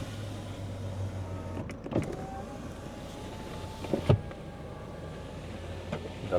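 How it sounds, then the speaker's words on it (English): Electric power window motor whirring in a 2016 Ford Kuga, a steady low hum running through with a couple of brief clunks as the glass stops, close up inside the cabin with no talking. "and full power window"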